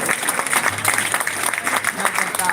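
An audience at a law college seminar applauds the college principal, a dense wash of steady clapping that fills the room, with some voices and crowd murmur mixed underneath.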